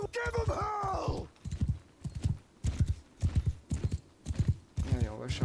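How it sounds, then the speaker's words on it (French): Horses gallop in a cavalry charge in the video game Mount and Blade 2 Bannerlord, steady hoofbeats in uneven bursts under loud battle shouts and voices. "Allez, on va charger à cheval pendant que mes troupes arrivent."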